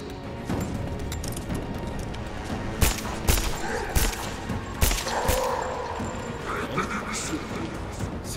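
Gunfire in the video game Rise of the Tomb Raider: sharp shots and bursts break out at scattered moments over a busy, noisy game mix, under someone talking.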